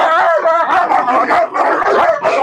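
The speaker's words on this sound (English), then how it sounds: "My God, listen to these dogs." Several dogs bark, yip and whine loudly and close, in a continuous overlapping chorus of yelps with no pauses and no speech.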